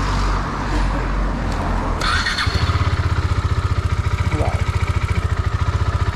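A KTM RC 390 engine idles close by after some rustling and a sharp clunk, then settles into a fast, even, pulsing single-cylinder beat that continues to the end.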